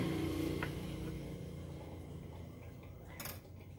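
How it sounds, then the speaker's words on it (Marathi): A knife slices through steamed squares of sorghum-flour and spinach dough in a kitchen, giving a couple of soft taps against the tray over a steady low background hum. "आता आपण ह्याच्या वड्या अशा कापून घेऊया।"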